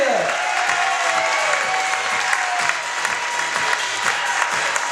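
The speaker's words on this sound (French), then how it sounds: "On va une nouvelle fois pouvoir applaudir ces charmantes demoiselles avec Charlotte, Marjorie, Julie et Candy." Audience applause for a group of young women being presented at a Port Camargue event, a dense, steady wash of clapping with crowd noise running the full length.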